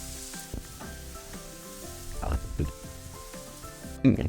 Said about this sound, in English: Fry this until the onion gets brown color